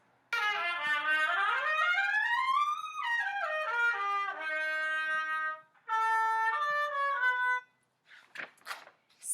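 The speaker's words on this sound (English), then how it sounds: "And a trumpet sounds like this." A trumpet plays alone and fairly softly: a rising then falling slide, a run of short stepped notes, and a held tone, ending in a few faint, breathy sounds.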